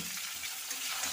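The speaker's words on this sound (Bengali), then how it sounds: "এর মধ্যে আমি এবারে শিমগুলোও ভেজে নেব" Pieces of flat bean fry in hot oil in a pan after potatoes, giving a steady, close, hissing sizzle with no pauses and no talk.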